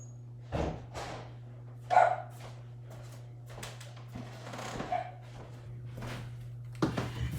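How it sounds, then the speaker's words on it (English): A dog barks outside in a handful of sharp, separated bursts spread across the stretch, heard at moderate distance over a steady low electrical hum. "She'll probably continue to bark as long as they're outside."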